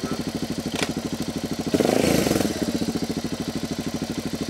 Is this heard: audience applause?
no